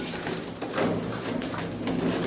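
Pigeons at a loft of old-breed Giribaz and Andhra pigeons coo continuously in a dense, steady chorus, close and moderately loud, with no talk over them.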